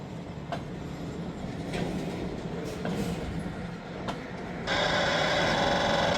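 A steady rumble of a train on the rails with occasional clanks, swelling near the end into a loud, harsh roar as it draws closer.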